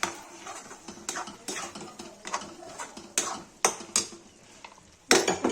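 A spoon scrapes and clinks against a cooking pan while spinach is stirred in with cooked tomatoes for palak paneer, giving a run of uneven close scraping strokes with a sharper clatter near the end.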